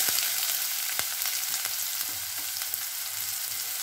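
Finely chopped onion with cumin fries in oil over a medium flame, a dense, continuous hiss of sizzling close up, broken by a few sharp stirring clicks.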